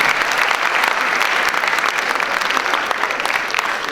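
Applause from an audience at an anti-corruption forum, a dense steady wash of many hands clapping that holds for the full stretch at close range.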